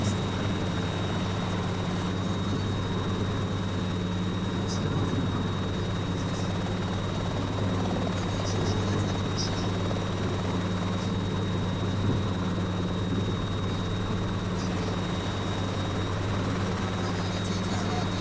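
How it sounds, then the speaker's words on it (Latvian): A helicopter's rotor and engine drone continuously and loudly on a test flight as it turns into the wind to land, with a steady high whine on top throughout. "Tad pagriežoties virzienā pret vēju, mēģināsim nosēdināt helikopteru"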